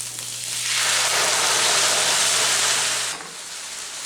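Tomato sauce, 36 to 45 ounces of it, poured into a pan while making homemade lasagna: a steady broad hiss and sizzle that swells in, holds for about two and a half seconds, then drops away.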